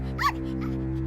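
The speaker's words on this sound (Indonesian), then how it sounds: "Tetapi ketika Toto mulai menggonggong, singa itu mundur ketakutan" Toto, a small cartoon dog, gives two quick barks, one sharp and one softer, over a constant low droning hum.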